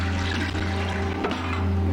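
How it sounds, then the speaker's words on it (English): A toilet flushing on its own, a steady rush of swirling, draining water that runs unbroken and fairly loud from start to finish. "Toilets mysteriously flushing by themselves."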